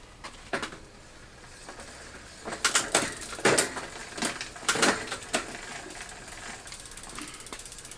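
Ozark Trail bicycle chain clicking over a Megatooth chainring during shifting: irregular sharp mechanical clicks and ratcheting bursts, close and moderately loud, with no talk.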